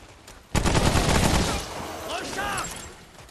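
Sudden loud burst of rapid gunfire in Remnant: From the Ashes, a dense sustained barrage that tapers into echoing shots with a voice talking over the later part.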